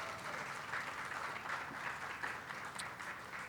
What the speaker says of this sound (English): If you do, give her a round of applause.